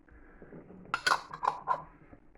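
Metal lid being fitted onto a sterilised glass jelly jar of grape jelly in a home kitchen: a few close clinks and clatters of glass and metal, three main knocks in quick succession.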